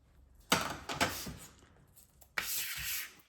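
Paper is creased and folded for a handmade writing folder, with short rubbing, sliding strokes in two bursts separated by quiet, close up and fairly soft.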